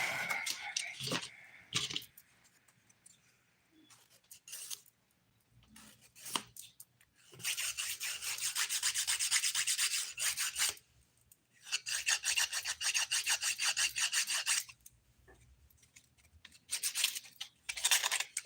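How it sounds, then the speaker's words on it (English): A coarse 100 grit nail file rasps across a nail in long bursts of steady scraping, with short pauses between strokes, close and fairly loud. "Definitely feels grittier than a normal 100 grit file."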